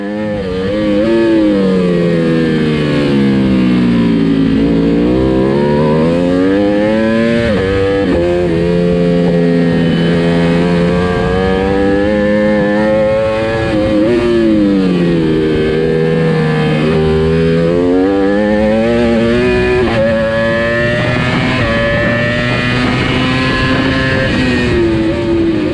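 A racing motorcycle engine on a race track roars loud and continuous, its pitch rising and falling repeatedly as the rider accelerates and shifts through corners.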